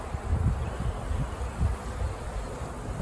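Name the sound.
honey bees buzzing during hive installation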